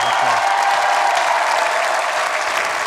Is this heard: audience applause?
yes